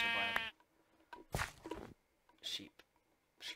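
Sheep in the Minecraft video game bleating in short separate calls between quiet gaps, faint overall, with a brief burst of a person's voice at the start.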